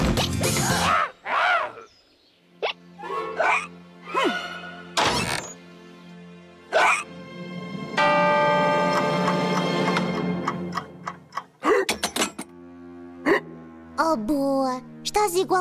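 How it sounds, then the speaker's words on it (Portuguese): A cartoon character in the Masha and the Bear episode hiccups repeatedly, sharp loud hiccups spaced irregularly among bursts of animated speech, with a sustained musical tone in the middle. "Estas soluços não param, não."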